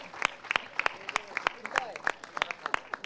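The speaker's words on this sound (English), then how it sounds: "Please give her a round of applause" Scattered audience applause at a Lifebuoy brand campaign launch event: a run of sharp, separate claps of uneven rhythm, moderately close, with voices murmuring underneath.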